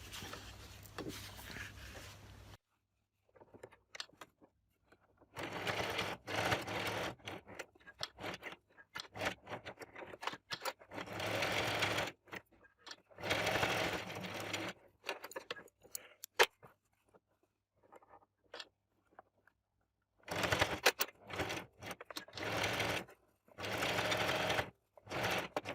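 A sewing machine stitches around the edges of a fabric monstera leaf for a headband, running in repeated bursts of rapid, steady mechanical whirring separated by short pauses, close and clear.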